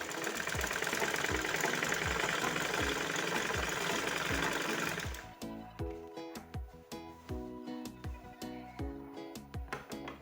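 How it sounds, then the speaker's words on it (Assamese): A sewing machine stitches along the border of a shawl (chador), starting as a dense continuous whir, then shifting into a rhythmic series of distinct mechanical pulses, close and steady, with no talk. "এতিয়া মই অকণমান চিলাই দি গৈছোঁ"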